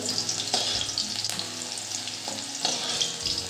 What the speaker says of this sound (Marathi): मिरच्याही छान आपण अशा तळून घेऊ मस्त